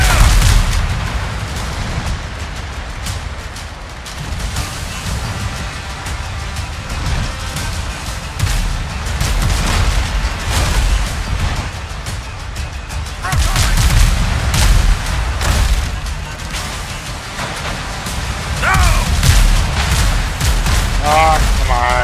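Repeated volleys of ship cannon fire in the Windrose naval battle game, loud booming blasts in irregular bursts over a sustained rumble, with voices shouting among the shots.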